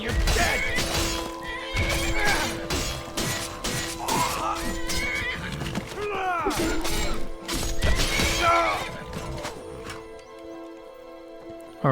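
A horse neighs repeatedly during a Skyrim fight against a bandit in a fantasy forest, loud whinnies mixed with crashing combat impacts and clattering, the action thinning out into quiet near the end.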